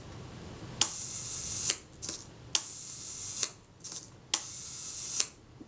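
Kodak Retina I type 126 camera shutter set to one second fires three times: each firing is a crisp opening click, then a matching closing click about a second later, close-up against a quiet room.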